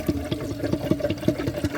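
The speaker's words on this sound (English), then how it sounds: "I'm gonna add some water" Water poured into a Kohler Wellworth toilet bowl, heard as rhythmic splashing and gurgling in quick repeated pulses, close and moderately quiet.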